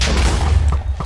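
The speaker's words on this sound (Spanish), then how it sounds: "Ah, no, sí, ya estoy disparando." Rapid gunfire from a weapon in a Minecraft roleplay game fighting Sonic enemies, a dense continuous stream of booming shots with heavy low rumble, loud and close for about a second.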